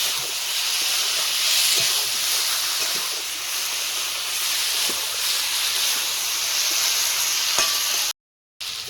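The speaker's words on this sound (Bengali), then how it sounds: "তাই একটু জল দিয়ে মশলাটাকে কষিয়ে নেব।" Meat and spice paste sizzle and hiss steadily in a hot pan with a little water added, with occasional stirring scrapes, before a brief gap near the end.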